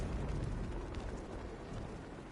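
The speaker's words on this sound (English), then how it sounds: "That's a fire." Fire burning in Batman: Arkham Knight, a steady, dense roar that fills the whole stretch at an even, moderate level, with no talking.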